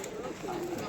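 Pigeons at the Kolkata pigeon market on Galiff Street coo softly in a brief, crowded burst, mixed with nearby market voices.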